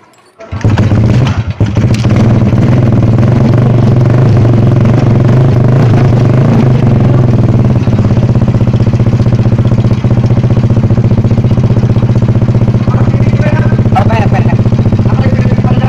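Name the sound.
Honda XRM110 motorcycle engine starting and idling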